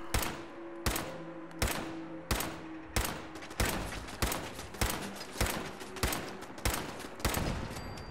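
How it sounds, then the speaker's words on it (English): Rapid bursts of enemy gunfire in the video game Fallout 4 crack out about a dozen times in a steady rhythm, each shot loud and sharp with a short decaying tail, no voices over them. "Oh, there's people shooting back."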